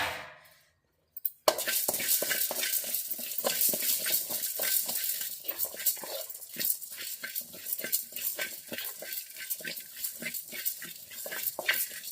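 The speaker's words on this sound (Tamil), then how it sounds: "அடுப்பை சிம்மில் வச்சுட்டு இப்போது மிளகு சீரத்தை லைட்டாக வறுத்துக்கலாம்" Black pepper and cumin dry-roasting over a low flame, stirred in a pan: after a brief silence, a rapid run of scraping taps and light metallic clinks repeats close by for the rest of the clip.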